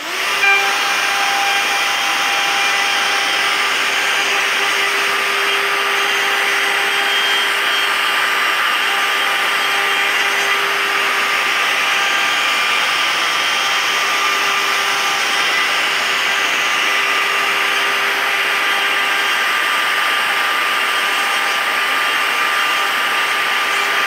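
A steady, loud mechanical whir with a high hiss runs without pause, a power sander grinding a window frame, with no talking.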